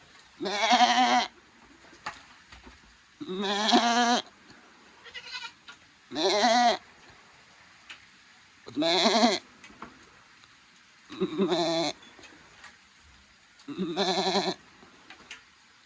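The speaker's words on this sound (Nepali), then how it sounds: "बाख्रा छ यहाँ ल गाइस हाम्रो खसीहरू ल" Goats bleat repeatedly and loudly, about seven separate wavering calls spaced a second or two apart, with quiet gaps between them.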